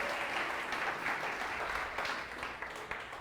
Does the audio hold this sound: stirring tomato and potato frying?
no